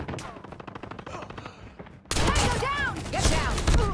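Shotgun blasts from a BY15 in the Call of Duty Mobile game, a quiet stretch of rapid rhythmic clicks and thuds giving way to loud, dense gunfire bursts with ringing echoes.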